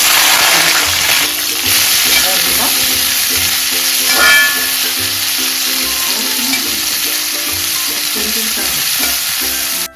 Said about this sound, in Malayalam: ചെറിയ ഉള്ളി ഇങ്ങനെ ഇട്ട് വഴറ്റാൽ മതി.